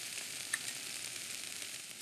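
Onion and garlic sizzle in a hot pan with tomato paste for a shrimp açorda, a soft steady frying hiss that swells in a sudden louder burst at the end.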